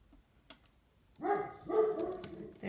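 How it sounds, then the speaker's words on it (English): A pet dog barks indoors in two bursts, each short and moderately loud, followed by quieter sounds, with a couple of faint clicks beforehand. "There's the barking of my dog again."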